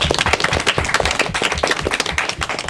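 A school academic competition audience claps and applauds steadily and fairly loudly, dense clapping with no voices.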